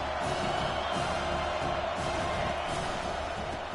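In a football video game, a Penn State versus TCU matchup, the stadium crowd sends up a continuous loud roar and murmur that holds steady throughout.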